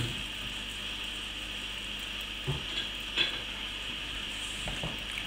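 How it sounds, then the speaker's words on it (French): Potatoes stirred into a simmering mutton ragout sauce in a pan, a steady bubbling sizzle with a few soft scrapes and clinks of a utensil against the pan. "Donc je mélange"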